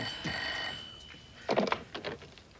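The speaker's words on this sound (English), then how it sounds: "Nicky, one of us has to answer the phone" A telephone bell rings indoors in a short burst, then a second louder ring follows with a brief pause between, heard clearly with no speech over it.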